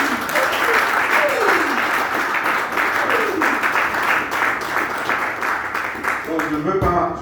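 A church congregation claps together in steady, sustained applause during a French-language service, with voices mixed in beneath the clapping.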